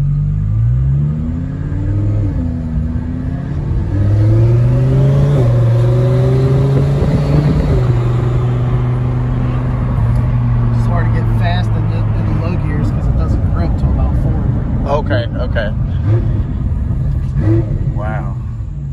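A twin-turbo Lamborghini Huracan revs hard from inside the cabin, its loud engine note sweeping up and down through several pulls before easing into a lower rumble with clicks and road noise.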